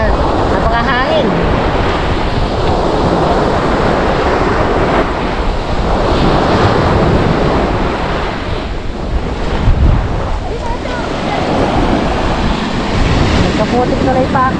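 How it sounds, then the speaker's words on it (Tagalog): Strong ocean waves roll and crash continuously on a windy beach in Bicol, near Mayon Volcano, with heavy wind buffeting the microphone throughout. "Lakas ng alon."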